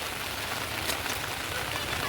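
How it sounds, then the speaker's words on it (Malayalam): Heavy monsoon rain pours down in a dense, even hiss of drops striking surfaces, close and unbroken for the whole stretch. "മഴയാണെങ്കിൽ പെയ്ത് തകർത്ത് പെയ്തുകൊണ്ടിരിക്കുന്നു"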